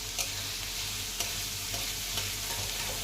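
Onions frying on high to medium flame for mushroom masala, giving a steady, quiet sizzle with a few light stirring clicks and no talking.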